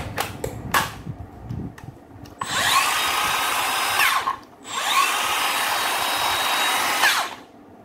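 A Makita HS631 cordless circular saw on a low 14 V battery revs in two long sustained runs after a few short bursts, its whine sluggish and strained, loud and close.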